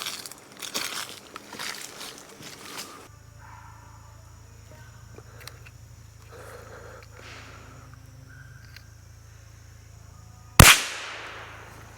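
A single sharp crack from a Savage MKII FV-SR .22LR rifle fired at a squirrel outdoors, loud and sudden near the end, following a stretch of quiet woodland ambience with rustling and a steady low hum.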